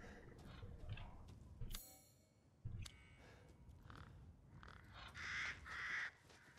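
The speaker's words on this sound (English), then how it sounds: "Be gone, bird." Crow-like caws from a bird in the video game Resident Evil 8, several sharp calls heard outdoors among game ambience and music, fairly close and loud at moments.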